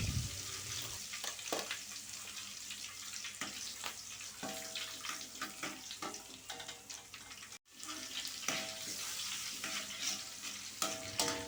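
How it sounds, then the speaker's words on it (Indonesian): Kaffir lime leaves frying in hot oil, giving a steady crackling sizzle with occasional louder pops and stirring clatter, heard close and fairly quiet with no talk. "Kemudian kita goreng dulu daun jeruknya sampai garing ya."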